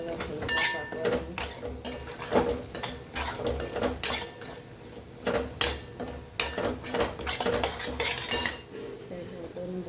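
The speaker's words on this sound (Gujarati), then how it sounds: "મિક્સ કરી મસાલા હલકા પાકવા દઈએ." A metal spoon scrapes and clinks in a pan while dabeli masala is stirred and mixed, giving irregular close clattering strokes across the whole stretch with faint talk in the background.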